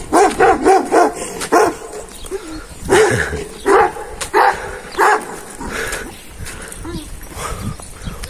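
Several dogs bark loudly in a rural spot, repeated close woofs in bursts with a few whimpers and yips, and someone talks briefly between them.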